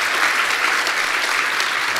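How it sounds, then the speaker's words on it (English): A conference audience applauds a presenter at a technology user conference, dense steady clapping filling the room evenly for the whole stretch, with no talk over it. "Can we get a round of applause for Jahan?"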